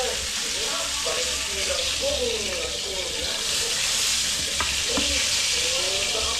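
Steady sizzling and crackling of fish frying in hot oil, continuous throughout, with faint voices and clinks in the background.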